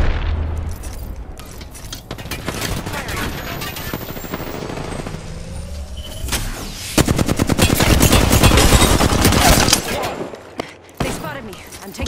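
Rapid automatic gunfire and heavy blasts from a PS4 shooter game, loud bursts of shots stacking into a dense barrage mid-clip with booming explosions, punctuated by short pauses and accompanied by occasional talk.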